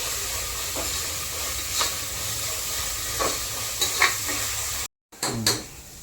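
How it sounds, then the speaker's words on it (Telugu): Green chillies frying in a pan with onions, a steady close sizzle with a few soft stirring scrapes, ending in a brief gap and louder clatter. "పచ్చిమిర్చి కూడా వేగిపోయింది ఫ్రెండ్స్"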